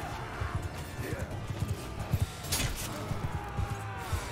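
Horses gallop across a medieval battle in the video game Mount & Blade II: Bannerlord: irregular hoof thuds with clashing crashes and a faint whinny, over busy mid-level battle noise and distant voices.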